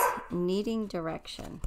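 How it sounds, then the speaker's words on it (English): A dog barks a few times nearby, reacting to a passing box truck, its sharp barks overlapping with a person talking. "Sorry about the dog. My dog does not like box trucks."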